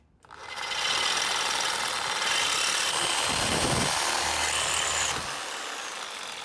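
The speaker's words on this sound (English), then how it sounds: "Come in on the bandsaw and just ever so slightly." A bandsaw cuts a small part for an Isuzu race truck, a loud, steady buzzing rasp of blade on material that holds for about four seconds before easing off into the machine's lower running hum.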